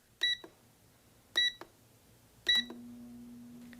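Air fryer timer sounding three short electronic beeps at even intervals, followed by a low steady hum as the appliance starts running.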